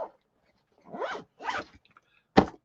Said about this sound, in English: And if I can zip it up,